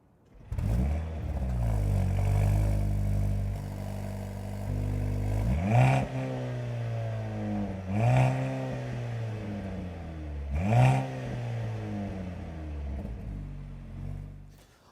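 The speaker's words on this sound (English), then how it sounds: "speaking of the exhaust system, I know a lot of people have had concerns about the 4-cylinder C43" A 2023 Mercedes-AMG C43 four-cylinder turbo engine revs up loudly and holds, then blips three more times in quick bursts, with a throaty exhaust rumble between them.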